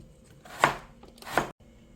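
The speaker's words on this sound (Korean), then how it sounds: "이렇게 얇게 이렇게 해서 납작 썰기해서 준비해 주세요" Radish sliced thinly into flat pieces with a knife on a cutting board: two crisp, close knocks of the blade about three quarters of a second apart, then quiet.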